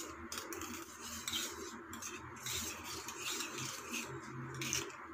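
A spoon stirs dry yeast and sugar in a bowl, giving a faint, continuous scraping and clinking with light taps scattered throughout. It is close but quiet.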